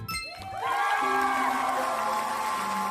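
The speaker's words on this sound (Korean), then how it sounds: "박수 주세요." Children at a church children's department Sunday worship service clap and cheer together, a loud sustained burst of crowd noise with bright tonal sounds running through it.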